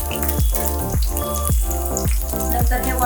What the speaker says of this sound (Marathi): या भाज्या सगळ्या तेलामध्ये चांगलं परतून घ्यायच्या